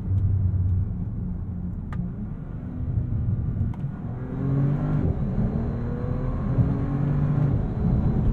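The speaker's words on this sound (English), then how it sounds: "Almost as quick as this vehicle just accelerates." A 2022 Bentley Continental GT Speed accelerates hard uphill, its engine note rising in a steady, loud drone from the cabin with quick gear shifts and a continuous road rumble underneath.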